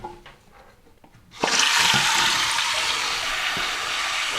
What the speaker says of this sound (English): Now all we have to do is turn the water back on.